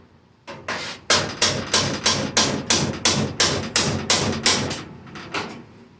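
Steady hammer blows on the bed of a 1980 CJ7 Jeep during repair work, about a dozen sharp, evenly spaced metallic strikes, close and loud, with no talking.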